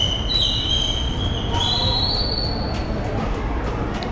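Two locomotive engines moving through Karimnagar railway station, a steady rumble with high metallic wheel squeals drawn out over the tracks, fairly close and loud.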